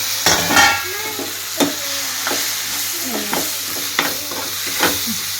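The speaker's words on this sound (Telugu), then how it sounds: "ఇక నూడిల్స్ వేసేసి మిక్స్ చేద్దాం" Veg Maggi noodles stirred and fried in a pan, with steady sizzling under scraping spoon strokes that come in several distinct, louder bursts.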